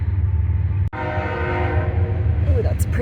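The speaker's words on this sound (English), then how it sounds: "here comes the train" A train rolls past a canal-side parking area with a steady low rumble and a sustained horn tone, heard from a bicycle ride.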